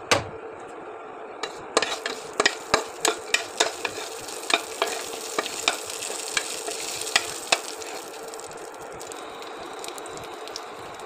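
Bay leaf and cumin seeds fry in hot oil on an induction cooktop, a soft continuous sizzle punctuated by a string of sharp metallic clicks and scrapes of a spoon against the pan.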